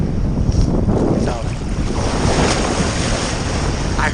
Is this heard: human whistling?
no